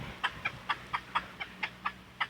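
Chickens clucking while being fed, in a quick, even series of short, sharp calls, close by, with no talking.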